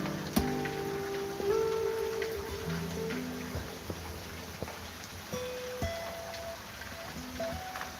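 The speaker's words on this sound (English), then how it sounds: "It's awesome sound of the rain." Steady rain patters outdoors as a broad soft hiss, with occasional louder drops and faint tonal background sounds layered over the constant fall.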